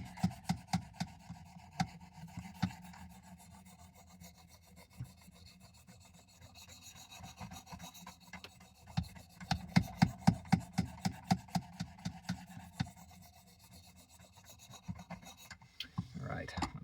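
Blade of a vintage WW2 M3 knife being sharpened, quiet rasping strokes that repeat in uneven bursts, faint and close, with brief pauses between runs.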